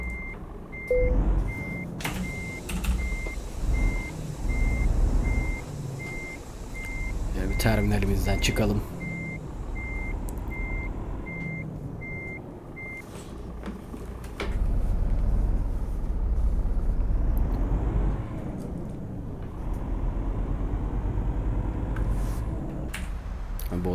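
Scania Touring Bus in a driving video game, its engine rumbling steadily as it starts and pulls away, with reversing beeps early on and someone talking over it throughout.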